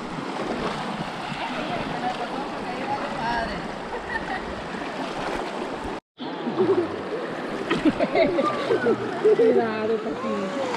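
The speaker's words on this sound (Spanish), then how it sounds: "la misión es pasar este río que está bien crecido" Fast-flowing water of a swollen river in Chalatenango, El Salvador, rushing and splashing nearby, with voices talking over it and a brief drop out midway.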